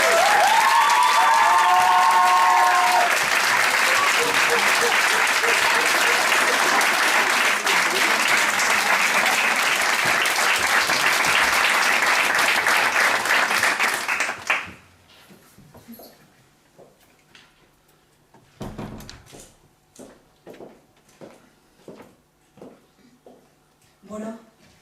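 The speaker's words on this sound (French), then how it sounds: "vous pouvez les applaudir pour les encourager" A theatre audience applauds loudly and steadily before a show for about fifteen seconds, with a voice briefly heard early on, then the clapping stops abruptly and scattered quiet sounds and faint speech follow.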